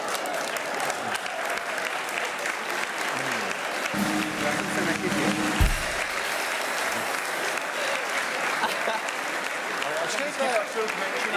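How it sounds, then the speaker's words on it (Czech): A studio audience claps steadily at a Czech television talk show, the applause dense and continuous throughout with a brief stronger swell in the middle. "Můžete si zatleskat."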